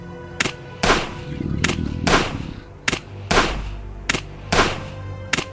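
Gunfire from the survival video game Last Day on Earth, heard as about eight sharp, loud shots spaced roughly evenly apart, each followed by a brief rumbling tail, with no talking.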